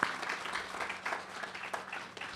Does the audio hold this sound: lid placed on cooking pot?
no